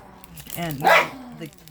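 A dog gives a short bark with a yip while dogs play with cats indoors, one close, fairly loud bark rising and falling within a second or two.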